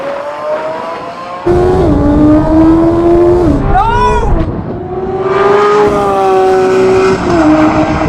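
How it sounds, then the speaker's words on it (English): A Suzuki Hayabusa superbike races a Lamborghini Aventador SVJ on a track. A loud, close engine howl climbs in pitch and drops at each gear change, with a sharp whine in the middle. "here's how it compares to a Lamborghini Aventador SVJ in a track race"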